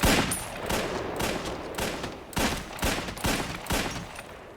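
Gunshots from the Fargo TV series, a string of about seven sharp, loud reports spaced irregularly over a few seconds with a rough, noisy background.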